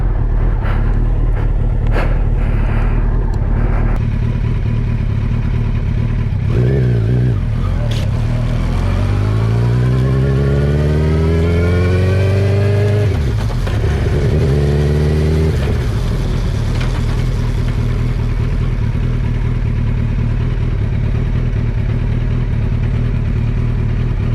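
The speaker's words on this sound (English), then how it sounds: "We're cruising down the road on the Hayabusa." Suzuki Hayabusa motorcycle at night under heavy wind rush, its engine note climbing through a long rising rev sweep, then easing back into a steady cruise, with brief clatter early on.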